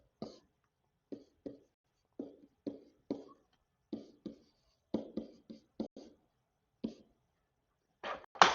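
Pencil scratching across paper in short separate strokes, close and quiet, with pauses between bursts of writing while someone works through fractions.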